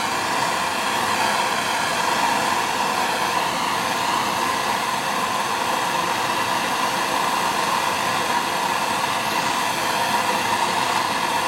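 A natural gas torch heats an aluminum subframe with a loud, steady, continuous roaring hiss close by, unchanging for the whole stretch with no talking.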